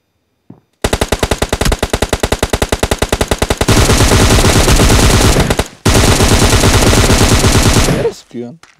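Loud, close gunfire in PUBG Mobile Lite, where an S12 shotgun is in play: a fast run of evenly spaced shots merges into sustained rapid fire, a brief break, then another long burst that trails off.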